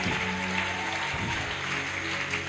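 A church congregation applauds, a steady wash of many hands clapping together throughout, with a few voices mixed faintly underneath.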